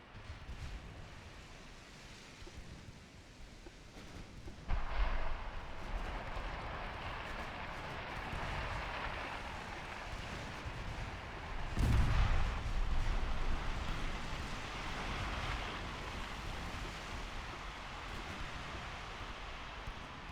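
Torpedoes strike warships in a turn-of-the-century naval battle game, heard as heavy muffled booms at about five seconds and a louder blast near twelve seconds over a constant roar of sea and distant gunfire.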